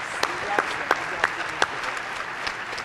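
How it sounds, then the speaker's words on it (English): Audience applause at a student panel during a tech and wellness day, a steady wash of clapping with a few sharper claps standing out, heard alongside talking voices. "Maybe a round of applause for Mr. Manette, please"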